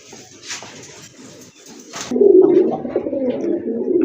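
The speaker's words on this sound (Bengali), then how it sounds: "আরেক জোড়া কবুতর দেখতে পাচ্ছেন" Brahma Chila pigeons coo in low, rolling throaty calls close by, getting louder and more continuous midway.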